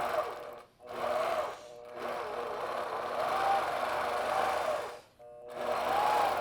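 A longarm quilting machine stitches sashing in the ditch, running in a steady, loud whir with a wavering pitch, broken by two brief pauses where it stops and starts again.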